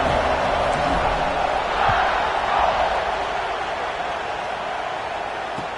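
A football stadium crowd waits for kickoff, a broad, steady roar of murmuring voices that holds at an even level throughout with no distinct cheers standing out.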